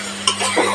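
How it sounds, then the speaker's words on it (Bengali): A spatula stirs fried eggs and fried potatoes through a pan of spice masala over low heat for egg kosha, giving short scraping strokes with a faint sizzle underneath, close and moderately loud. "নেড়ে দিচ্ছি,"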